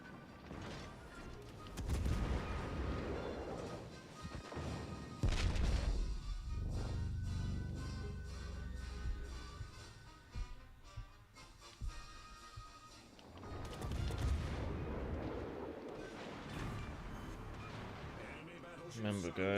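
World of Warships: Legends naval gunfire booms repeatedly, heavy blasts and explosions rolling in bursts with rumbling aftermath, loud throughout.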